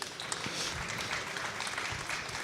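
Audience clapping for an innovation trophy winner at a rescue and emergency services expo awards ceremony, a steady dense patter of applause filling the hall for a couple of seconds.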